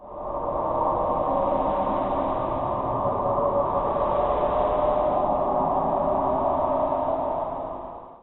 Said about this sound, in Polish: Seria wąskopasmowych tonów o rosnącej częstotliwości, z których każdy trwał kilka sekund.